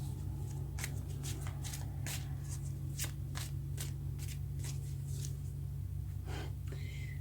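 Tarot cards being shuffled by hand in a reading, a run of crisp riffling bursts repeating every half second or so over a steady low hum, fairly quiet and with no talk.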